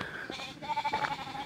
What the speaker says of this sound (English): Just some sheep.